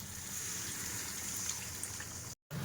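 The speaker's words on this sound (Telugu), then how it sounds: "ఇప్పుడు కొంచెం వాటర్ వేసుకోవాలి." Water pours in a steady, faint trickle into a pan of egg and tiger prawn curry on the stove, running continuously before cutting off abruptly near the end.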